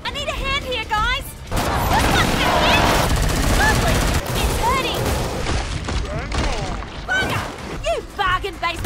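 Gunfire and explosive booms from the Killing Floor 2 video game, loud and continuous through most of the stretch, with in-game character voices speaking over the shooting.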